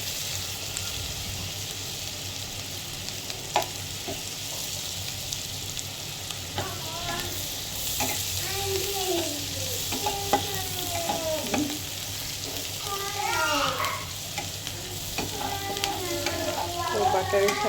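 Chopped onion and garlic browning in butter with vegetables in a pan, a constant close sizzle broken by scraping stirs, with faint chirping or squeaky tones in the background and no talking.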